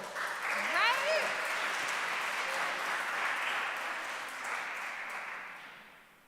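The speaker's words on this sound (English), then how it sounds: "Give yourselves a round of applause for being so bad" Applause from an audience at a live poetry festival in Kalamazoo, a broad sustained wash of clapping that fades slowly toward the end, with a brief voice-like sweep near the start.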